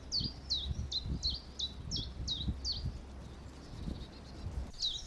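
A common chiffchaff repeats a quick series of bright, evenly spaced chirping notes, fairly faint, over a soft outdoor background at a marsh in spring.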